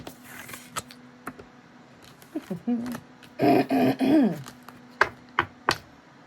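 A few short, harsh coughs and throat-clearing bursts, close and fairly loud, broken up by sharp clicks and brief pauses.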